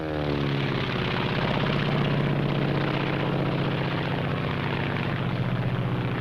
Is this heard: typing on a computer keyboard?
no